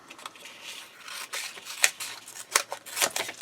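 Scissors snip through postage stamp organizer material in a series of short, crisp cuts at close range, irregularly spaced, with no voices.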